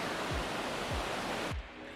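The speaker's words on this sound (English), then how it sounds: "The sound of running water is like everything." Running water of a stream beside a trail near Triple Falls in DuPont State Forest, North Carolina, a dense steady rush close by with a few low thumps, dropping off abruptly near the end.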